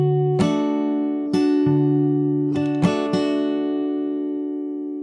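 Slow, close fingerstyle guitar from a song, with a handful of picked chords and bass notes spaced apart and left to ring and fade, no talking.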